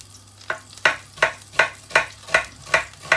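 Sizzling fat left over from frying bacon in a frying pan, with about eight regular bursts of crackle, each flaring then fading, close and fairly loud with no talking.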